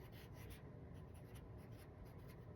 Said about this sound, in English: Then I have a black marker, and I'm just gonna write